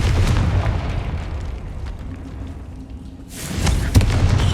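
A Confringo fire spell bursts in Hogwarts Legacy, a loud explosive boom over dense game combat noise, with a second sharp blast arriving near the end.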